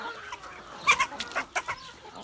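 Chickens cluck nearby in short, irregular bursts, several soft calls overlapping against a quiet background, with a naked-neck breeding rooster among them.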